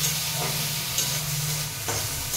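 Greens cooking in a pan after a splash of water, giving a steady, moderately loud sizzle and hiss of steam with faint stirring clicks throughout.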